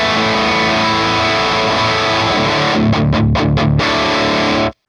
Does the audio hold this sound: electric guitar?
yes